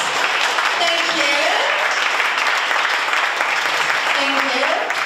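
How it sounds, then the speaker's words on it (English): A roomful of people at a hackathon for women engineers in India claps continuously to celebrate, a loud, dense wash of applause with faint voices mixed in beneath. "let's look at everyone around the room and clap for 30 seconds to celebrate"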